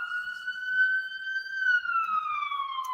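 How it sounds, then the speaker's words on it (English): A wailing ambulance siren holds a high tone, then slowly drops in pitch as it passes by, loud and clear with no talking. "Sorry, ambulance."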